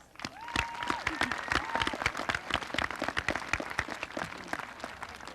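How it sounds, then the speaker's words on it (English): Audience applauding teachers at a school event, a burst of dense clapping from many hands that swells and holds steadily, with a few faint voices and a cheer threading through the crowd. "I think they deserve a big round of applause"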